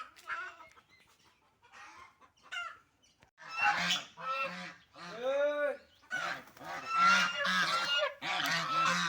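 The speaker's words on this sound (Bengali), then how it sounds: "তো এই তো দেখতে পাচ্ছেন হাঁসগুলো এখন ভেতরে ঢুকবে ওই আসছে" A flock of domestic ducks comes in, loud nasal quacking and honking close by in repeated overlapping bursts that grow busier and louder, with a few faint calls at the start.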